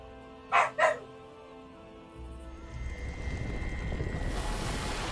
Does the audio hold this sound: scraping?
no